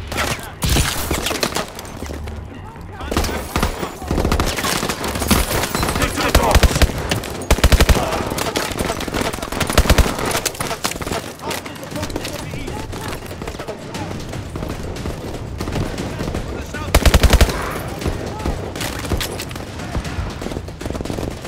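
Sustained automatic gunfire in Call of Duty: Advanced Warfare, a dense, loud barrage of rapid shots and bursts that continues throughout, with shouted voices and battle noise mixed in.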